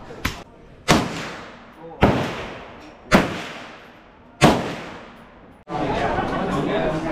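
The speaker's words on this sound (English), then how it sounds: "तो भाई चला ली हमने M16 और AK-47." M16 and AK-47 rifles fire at Cu Chi as five loud single shots about a second apart, each with a sharp crack and a decaying echo, followed by steady background noise.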